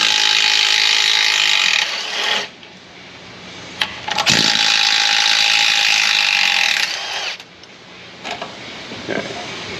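An impact wrench removes 15 mm sway bar bolts on a Ford Explorer in a garage, giving a couple of loud, sustained high-pitched rattling bursts separated by brief pauses, with shop background noise between.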